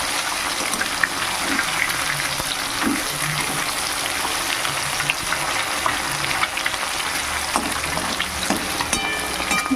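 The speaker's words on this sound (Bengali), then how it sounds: "মাছগুলোকে বেশ একটু ভালো করে ভেজে নেব" Steady, loud sizzling of rohu fish frying in oil, with occasional stirring scrapes and bubbling pops throughout.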